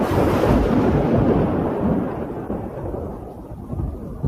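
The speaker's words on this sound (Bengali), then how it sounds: "কড়কড় শব্দে বাজ পড়তে" Loud crackling thunder rumbles and rolls through a stormy night, booming strongly at first and then slowly fading to a lower, uneven grumble with a last flare at the end, with no voices present.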